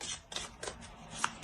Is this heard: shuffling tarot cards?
yes